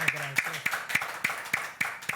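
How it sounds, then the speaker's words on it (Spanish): Sharp claps in a steady rhythm, about three or four per second, from a studio audience welcoming a guest onto a youth TV show. The claps are fairly close and moderately loud, with no one speaking over them. "Vamos a recibirla con un fuerte aplauso aquí en el estudio."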